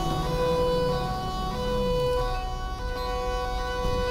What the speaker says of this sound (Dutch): Even de sirene gaan voor hier over te steken